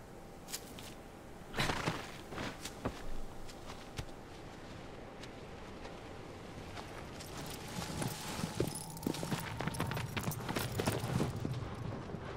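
Horse hooves walking in the Shadow of the Colossus remake video game, a soft irregular clip-clop with scattered sharper knocks, moderately near under a steady ambient bed, busier toward the end.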